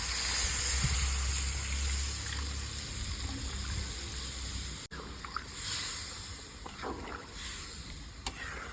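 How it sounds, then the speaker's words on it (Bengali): Water being poured into cooked, browned chicken in a pan, a steady splashing gush over a hissing base that gives way to quieter bubbling and a few clinks. "কষানো হয়ে গেছে আমি জল দিয়ে দিচ্ছি"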